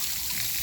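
Water trickles and dribbles softly and steadily as someone plays with it at close range, with a faint low rumble underneath.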